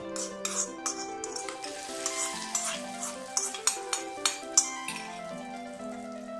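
Red chillies sizzle as they fry in a pan for a cucumber pachadi tempering, while a utensil stirs and lightly clinks against it, with soft music playing in the background.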